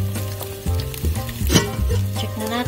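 Precooked corned beef warms in a pan and gives off a bright, steady sizzle, partly covered by a loud tonal background hum.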